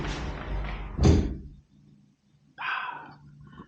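A storm door on a beach condo unit in Panama City Beach, Florida swings shut with one solid, close thud after some rustling movement, followed by a near-silent room and a brief burst of noise.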